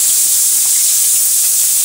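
Eggplant slices dropped into hot frying oil give a loud, steady, close-up hiss and sizzle that holds evenly through the brief moment.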